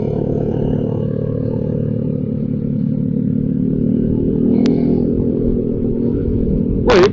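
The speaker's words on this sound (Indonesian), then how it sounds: "itu pakai knalpot Supra X" Honda Supra X motorcycle fitted with an aftermarket exhaust passes close by, a loud steady engine roar and drone rising slightly mid-pass, with a brief high beep near the end.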